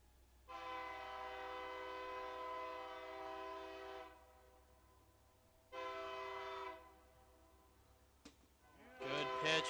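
A train rolls through near a small-town baseball game, sounding a long, loud, steady horn blast of about three and a half seconds, then a shorter second blast, followed by a sharp knock and a brief burst of crowd noise.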